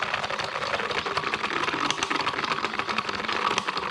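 Toy beauty blender washing machine running, a faint, steady rattling and clattering whir that continues without pause and with no talking.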